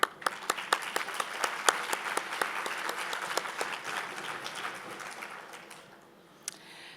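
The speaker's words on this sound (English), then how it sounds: "let us give you another round of applause" An audience at a city mayor's State of the City budget address breaks into a sustained round of applause, dense clapping from a large crowd that gradually thins and fades out.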